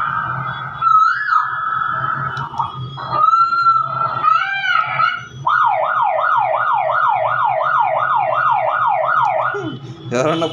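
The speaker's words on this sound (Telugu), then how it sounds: "పోలీస్ హార్న్ కూడా ఉంది." A handheld megaphone loudspeaker blares a loud electronic police siren. Short wavering tones come first, then a rapid rising-and-falling wail repeats about a dozen times. Close and harsh, with no voices over it.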